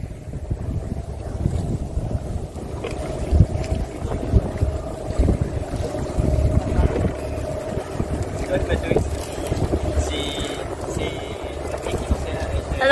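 A sailing boat moves under engine power on a light swell, its steady low motor rumble running throughout with wind buffeting the microphone and splashes of water.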